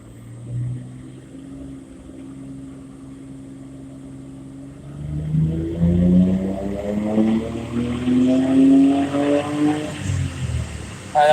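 Nissan R32 GTR engine on a Haltech-tuned setup revving under boost: a low idle rumble builds into a rising, loud engine roar with climbing harmonics, sustained and close.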